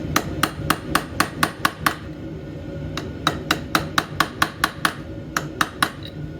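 Sharp metallic hammer strikes on a Honda 300EX motorcycle clutch in two quick, evenly spaced runs of about eight blows each, separated by a short pause, loud and close.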